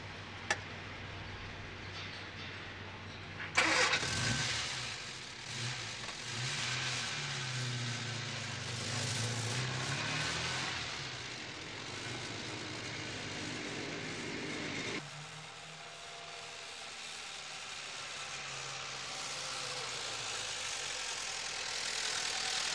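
An old car drives along, its engine humming and rumbling steadily under a broad road noise after a sharp start, shifting tone partway through as it keeps moving.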